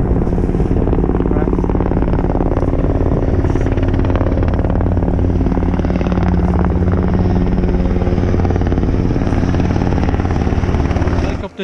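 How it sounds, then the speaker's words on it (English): A mountain rescue helicopter roars loudly and steadily throughout, its rotor thudding in a continuous drone before cutting off abruptly at the end. "The helicopter's had one look at it."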